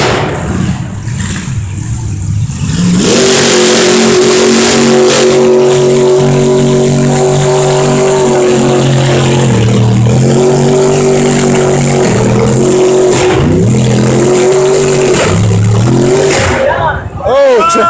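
Big-engine mud trucks at a Trucks Gone Wild event in 2015, engines roaring and revving loudly with pitch rising and falling for most of the time, while people talk nearby.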